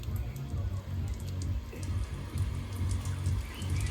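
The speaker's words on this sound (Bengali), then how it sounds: "ঠান্ডা জল বেরোচ্ছে, বাহ।" Cold water running from a tap at a family home, a steady low rush and patter of flow continuing throughout, fairly close with faint background noise.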